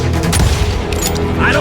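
Gunfire in an Old West street in Call of Juarez: Gunslinger, dense booming shots layered under shouting voices.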